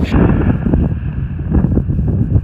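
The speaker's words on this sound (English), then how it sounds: "It's windy as all shit" Strong gusting wind roars across the microphone in Walpa Gorge at Uluru, a loud, continuous buffeting rumble with no clear pauses.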